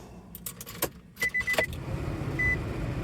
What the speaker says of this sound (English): let's go ahead and start it up, because it absolutely should